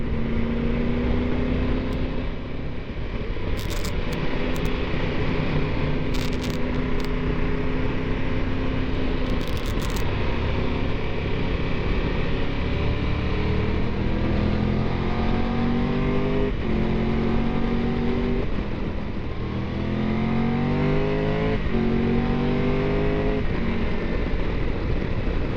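A car engine pulls hard out of mountain-road corners in the Dolomites, revving up through second, third and fourth gears in repeated rising sweeps, loud and close throughout with no speech.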